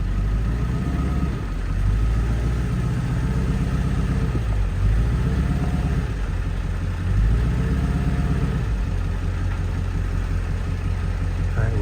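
A tractor engine runs during driveway repair work. It has a hydraulic leak. A steady low drone swells in three slow rises and falls, like gentle throttle changes under load, close by and loud.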